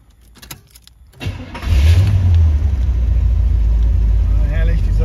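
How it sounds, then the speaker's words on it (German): A Corvette C3 Stingray Targa's V8 cranks and catches after a few quiet clicks, then settles into a loud, deep, close rumbling idle that holds steady to the end; a voice is faintly present early on. "Ah, herrlich, dieser V8."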